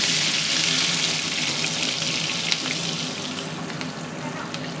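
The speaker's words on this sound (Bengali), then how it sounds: "এবার করলাটা আমি লাল করে ভেজে নেব।" Bitter gourd frying in a pan, a steady, close hiss of sizzling oil that holds evenly throughout with no voices.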